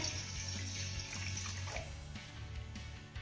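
A bowl of water pours steadily into a pan of sugar, a continuous close splashing and trickling stream that runs without pause and has no talking over it.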